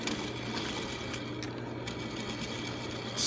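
A sewing machine runs steadily, top stitching a seam on underwear during a repair, its even mechanical whir continuing close and alone for a few seconds.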